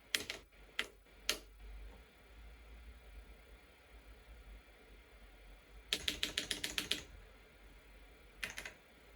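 Buttons on a GrandMA2 lighting console are clicked close and crisp: a few scattered single presses, then a rapid run of taps and a last pair, in a quiet room.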